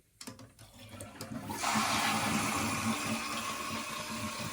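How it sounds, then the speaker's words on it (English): A household toilet flushes close by, a few clunks of the handle giving way to a loud, sustained rush of swirling water that holds steady to the end. "Now that it's filled up, you can go ahead and flush the toilet."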